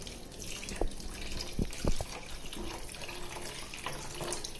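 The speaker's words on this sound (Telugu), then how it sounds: "తగినంత వాటర్ యాడ్ చేసుకోవాలి" Water pours steadily over tamarind in a bowl for fish curry, a close, continuous splashing with a few brief knocks.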